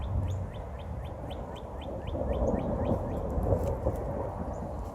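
Distant thunder from a brewing storm rolls as a low, faint rumble outdoors in Guelph nature. Repeated high bird chirps ring above it throughout.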